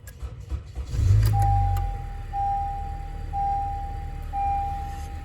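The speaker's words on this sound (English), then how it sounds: "Start the car again." A Honda with a weak, failing battery cranks and catches with a brief low rumble, then settles into a steady idle while a high electronic chime beeps at regular one-second intervals.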